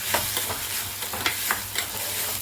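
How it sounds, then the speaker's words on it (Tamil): Onions sautéing in hot oil with curry leaves, green chili and ginger-garlic paste, a steady close sizzle broken by a few scraping stirs of a spoon in the pan, with no talking. "வெங்காயம் கொட்டி வச்சு வதக்கிக்கலாம். கருவேப்பிலை போட்டுக்கலாம், பச்சை மிளகாய் போட்டுக்கலாம், இஞ்சி பூண்டு பேஸ்ட்டு போட்டுக்கலாம்."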